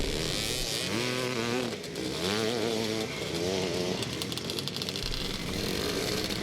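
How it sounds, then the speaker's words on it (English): A Husqvarna motocross bike, number 14, rounds a turn at a Scottish motocross track at Forestmill, Clackmannan, its engine revving and rising in pitch, loud and close, then a second rev later on. "And that's Brian Hamilton, number 14 on the Husqvarna, just making the turn there"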